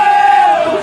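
Supporters at a snowy non-league football match between AFC Sudbury and Bedford Town in Suffolk raise a sustained, loud roar late in the game, a broad swelling crowd shout that eases slightly toward the end.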